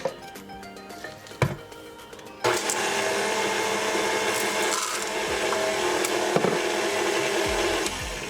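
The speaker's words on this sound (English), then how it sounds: "I'm going to put my whisk attachment on here" A stand mixer with a whisk attachment beats red velvet cake batter. A few handling knocks come first, then the motor starts and runs as a loud steady whir to the end.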